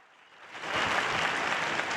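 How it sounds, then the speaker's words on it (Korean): An audience at a live family-day concert session applauds the performers, the clapping swelling from quiet to a steady, dense wash that stays moderately loud. "엘리베리, 니콜 루즈, 카티오 로메로에게 다시 한번 감사 박수를 보내주시기 바랍니다"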